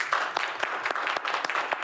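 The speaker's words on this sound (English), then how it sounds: "And folks, let's give our candidates a round of applause." A room full of people applauding candidates at a district attorney forum, brisk, even clapping at moderate loudness that runs without a break for about two seconds.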